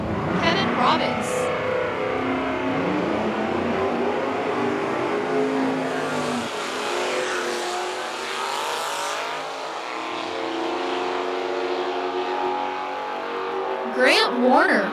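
Drag racing at a nostalgia fuel and gas finals qualifying, a 1969 Oldsmobile and a 1950 Studebaker running side by side, engines roaring loud and steady throughout with a rising pass, an announcer talking over the noise.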